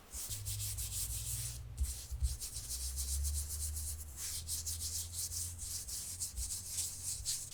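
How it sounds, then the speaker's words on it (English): Brush scrubbing excess watercolour paint off a textured abstract surface, a continuous close bristly rubbing and scraping with repeated back-and-forth strokes at low level, with no talking. "you can use your brush to get rid of the excess by just scrubbing"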